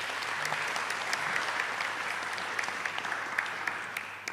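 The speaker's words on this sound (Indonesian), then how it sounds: "Kita beri aplaus dulu ke Pak Lo." An audience at a stock investment seminar at UKDW Yogyakarta applauds speaker Lo Keng Hong, a sustained dense clapping from many hands in a room, steady and moderately loud, tapering slightly at the end.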